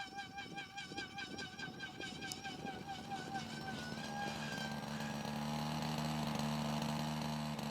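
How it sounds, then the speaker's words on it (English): Small chainsaw-type engines power model aircraft at a private airfield outside Delhi, buzzing with a steady whine that climbs and rises in pitch as they fly, growing louder and fuller toward the end. "The sound of the chainsaw engines reverberates through the air as beautifully designed model aircraft donning high visibility decals and colors fill up the air with excitement and high energy."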